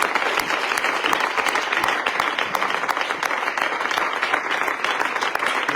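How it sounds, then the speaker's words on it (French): A church congregation at a worship service bursts into sustained applause, with dense rapid clapping filling the room steadily from start to end. "Est-ce qu'on peut acclamer pour ce Dieu?"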